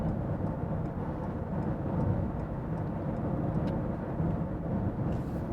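Toyota C-HR cruising at about 100 km/h on a highway while changing lanes, with a steady, loud low road and engine rumble and wind noise throughout, and no speech.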